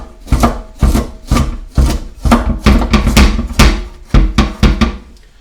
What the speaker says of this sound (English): I'm going to take a regular knife and just go like that